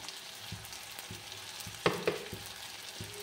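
Spiced mushroom fry being stirred in a pan with coriander powder, red chilli powder and salt, giving a low steady sizzle with periodic soft scrapes and a couple of sharper utensil clacks near the middle.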